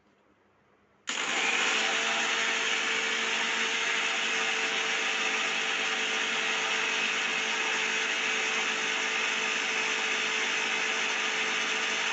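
A mixer grinder grinding coriander seeds, cumin and poppy seeds starts abruptly after a quiet moment and then whirs loudly and steadily, a constant high mechanical roar that doesn't let up.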